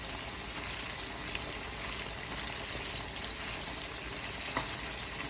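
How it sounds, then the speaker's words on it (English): Sausage sizzles in a pan for a pasta dish, a soft, steady crackling hiss with an occasional pop, heard alone without talk. "sizzling sausage as a common noise"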